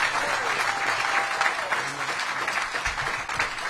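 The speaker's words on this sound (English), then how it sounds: "One more round of applause for the council member." Audience applause for a council member at a mayoral small-business funding event, a sustained round of crowd clapping at moderate level with faint voices underneath, tapering slightly toward the end.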